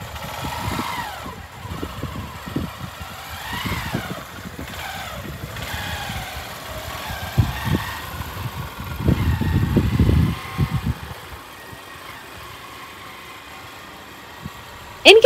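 A borrowed motorcycle's engine putters and revs unevenly as a first-time rider sets off, the sound moderate in level with a few stronger surges.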